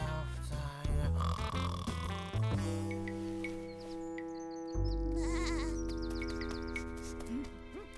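Several loud, wavering sheep bleats in succession, close by, over a musical background with a soft tonal backdrop.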